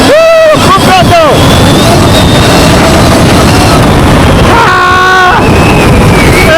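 A Stark Varg electric motocross bike at full throttle on a trail ride, a loud, steady rush of motor and wind noise that runs the whole way, with a rider's excited shouts over it near the start and again later.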